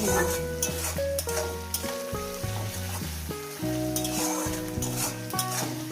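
Onions frying with salt in a pan for a Bengali fish curry, a steady sizzle and stirring scrape running beneath loud melodic background music throughout.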